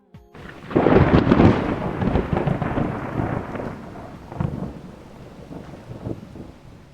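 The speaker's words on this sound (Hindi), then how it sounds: "इस बारिश को भी अभी शुरू होना था।" A heavy thunderstorm rumbles in with a loud rolling thunderclap, then keeps going with a dense rush of rain and gusting wind that slowly eases off.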